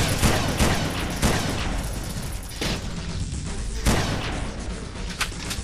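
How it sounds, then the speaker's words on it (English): Precision rifle firing in the video game Red Faction, with loud, close, sharp shots in a fairly quick irregular rhythm and heavy low-end blasts between them. "It's like a sniper rifle, only it shoots faster."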